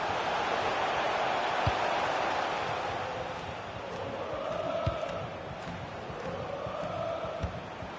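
A large football stadium crowd at a Premier League match between Newcastle and Bournemouth roars and murmurs in approval at good play, forming a steady wash of noise with a few sharp claps and shouts rising out of it.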